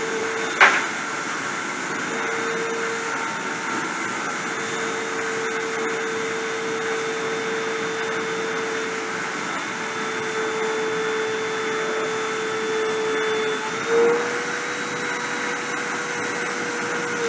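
A machine starts deposition with a loud, steady whirring drone and a constant tonal hum throughout, marked by a sharp click at the start and a brief bump later on.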